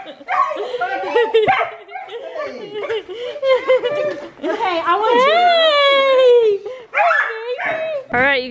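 Puppies yip, whine and bark in high, wavering bursts close by in a car, mixed with people talking.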